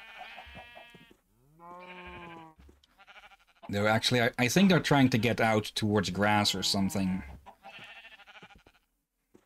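Minecraft sheep give a few wavering bleats, then someone talks at length over them, and one more bleat sounds near the end.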